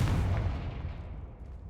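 A Confringo fire spell explodes in the game Hogwarts Legacy, a loud booming blast at the start that rolls off into a long, fading rumble with no voices over it.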